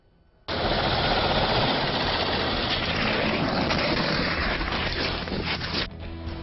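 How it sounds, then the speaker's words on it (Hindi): An Indian Air Force Mi-17 helicopter at the Kedarnath helipad, around the moment of its crash just short of the pad, bursts in as a loud, sustained rotor and engine roar that stays heavy and close before easing slightly near the end. "भारतीय वायुसेना का एक हेलीकॉप्टर केदारनाथ में क्रैश हो गया।"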